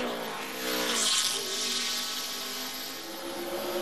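NASCAR Busch Series race car on a qualifying lap at Bristol, a distant engine roar swelling and fading as it circles the track, steady and moderately faint throughout.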